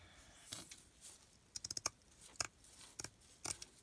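Scissors snip through burlap in a few quiet, crisp cuts, spaced irregularly and close up with no talking.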